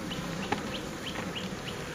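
Steady, dense buzzing of honey bees inside a warming spring hive of Buckfast bees, a continuous close hum with faint higher whines drifting over it.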